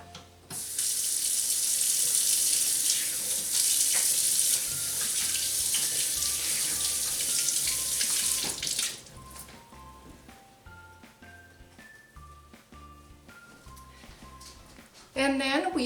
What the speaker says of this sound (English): Now I'm just going to wash my hands real quick.